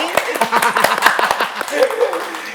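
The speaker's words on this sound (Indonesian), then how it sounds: "Boleh tepuk tangan dulu yang ada di sini." Audience clapping at a university admissions event for Universitas Airlangga Surabaya, scattered distinct claps from a modest crowd mixed with a voice talking over them.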